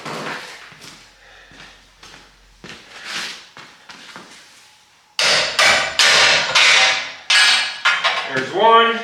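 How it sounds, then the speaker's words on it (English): Hammer blows pounding parts loose on a 1978 International Scout during bumper removal, a series of sharp metallic strikes in uneven bursts, close and loud, growing denser and harder in the second half. "Let me grab a hammer quick and we'll pound those out."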